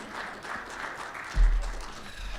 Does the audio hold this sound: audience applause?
yes